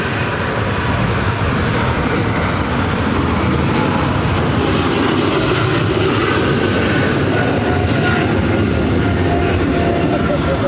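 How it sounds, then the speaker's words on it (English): A British Airways Boeing 777-300ER heavy takes off from LAX bound for London Heathrow, a loud, sustained broadband jet roar filling the whole stretch, with people talking beneath it. "This is British Airways 282 Speedbird 8 Delta Sierra Heavy taking off to London Heathrow on a 777-300ER."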